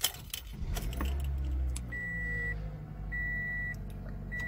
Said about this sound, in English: I'm going to go ahead and start up the vehicle.